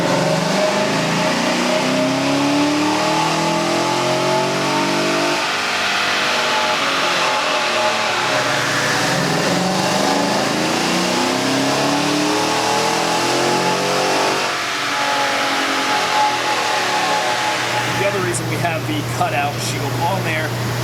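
A car engine revs through a rising and falling pull on a dyno, with a loud, sustained roar and shifting pitch. Talk runs over it and a fan-like whir persists beneath.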